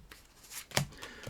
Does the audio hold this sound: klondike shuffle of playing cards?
yes